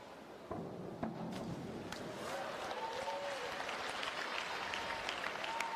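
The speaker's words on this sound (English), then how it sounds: "She's getting the loudest applause in the stands of anybody." Sustained applause from a crowd in the stands at a women's 3 m diving final, steady and fairly distant, with a few thuds and faint voices mixed in.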